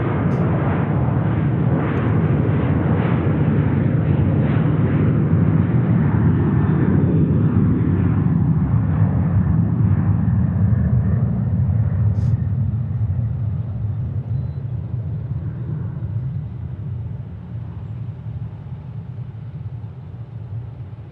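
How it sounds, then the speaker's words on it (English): American Airlines Boeing 737-800 taking off from Tucson airport, a loud sustained jet roar and rumble that slowly fades as the aircraft climbs away, with no talking. "here goes American to DFW on an 800"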